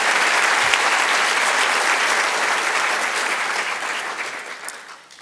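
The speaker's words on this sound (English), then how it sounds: "let's give another very warm round of applause to the three presenters" Warm round of applause from a conference plenary audience for three presenters, dense and loud at first, then slowly thinning and fading away over several seconds with no talking.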